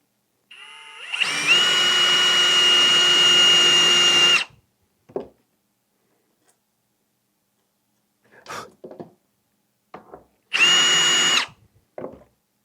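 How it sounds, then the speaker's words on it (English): Two bursts of a power drill fitted with a tapering bit, cutting screw holes in a wooden disc for a lazy Susan, each run steady and loud for a few seconds, with brief handling clatter between. "I've got a little what you call it, tapering bit, and I'm going to see if I can taper these so they'll fit the number 8 screws"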